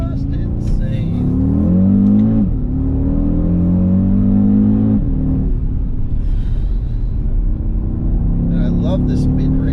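An Audi RS Q3 engine pulls hard through the mid-range around 4,000 RPM, its tone rising steadily in two surges with a gear change between, heard from inside the car with a voice speaking at times.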